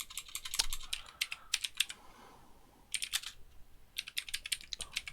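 Keys clack in quick irregular bursts on a failing computer keyboard, close and fairly quiet, with short pauses between runs of typing and no speech.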